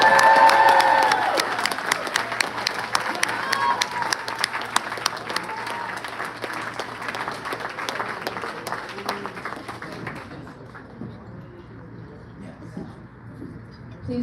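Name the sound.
applause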